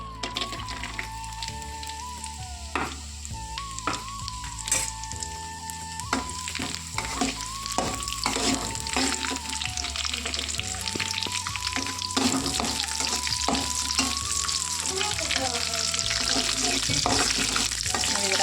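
Ingredients sizzle and fry steadily in hot ghee for a home festival meal, with repeated stirring and scraping in the pan, a continuous close crackle throughout.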